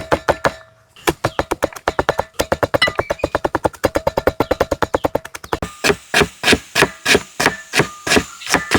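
A knife finely chopping garlic on a cutting board for a Kerala-style beef tongue roast gives rapid, evenly spaced, loud, close knocks. After a brief opening pause the knocks run steadily, with no speech.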